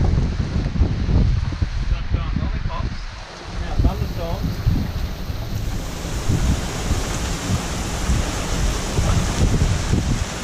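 Heavy rain and a storm batter a sailboat at sea, with gusting wind, crashing waves and low rumbling, loud and close. Wind buffets the microphone, and someone speaks briefly near the start.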